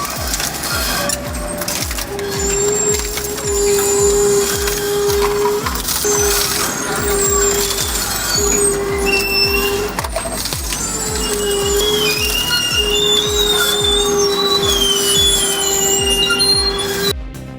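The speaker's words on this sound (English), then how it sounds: "isn't just a shredder, it's a twin-shaft powerhouse. In one pass, it annihilates up to 40 drives at once, reducing them to unrecognizable fragments" A twin-shaft industrial shredder grinds through a batch of hard drives, loud continuous crunching and metallic screeching with repeated clanking impacts, heavy and close throughout.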